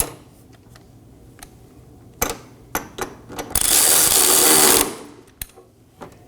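Fuel tank strap bolt being snugged down with a power tool on a 2015-2023 Nissan Maxima 3.5L V6: a few sharp clicks, then a loud sustained mechanical whir of about a second, followed by a final tap, close up with no talk.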